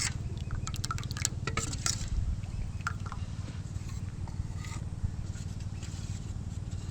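Water is poured into semolina (rava) dosa batter and mixed in a bowl, giving soft liquid splashes and faint drips over a low steady background, with no talk.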